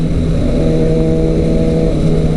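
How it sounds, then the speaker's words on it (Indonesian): A 600 cc motorcycle on a group Sunday-morning ride drones with a loud, steady engine note, holding an even pitch without clear revving peaks and with no talk. "Dan kali ini saya pakai motor 600 cc yaitu Stexam."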